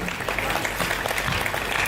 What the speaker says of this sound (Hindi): एक बार जोरदार तालियां इतनी बड़ी मातृशक्ति की।